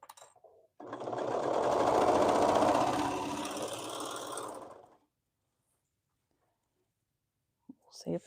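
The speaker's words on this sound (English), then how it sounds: "then we're going to sew that side together" Sewing machine running steadily for about four seconds while stitching a shirt seam, a loud continuous mechanical whir that stops abruptly, followed by silence and a brief faint clunk at the end.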